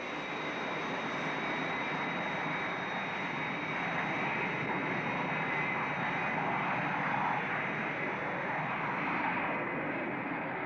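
Airliner approaching Nice Airport for landing, a steady loud engine roar and rushing drone that holds evenly throughout with no voices.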